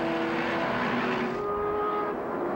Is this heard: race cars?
yes